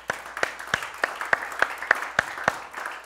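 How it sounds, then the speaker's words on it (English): Church congregation clapping hands together at a Sunday service, a steady rhythm of about ten sharp, fairly close claps roughly every third of a second, with no talking over it. "Let's give Him a hand clap."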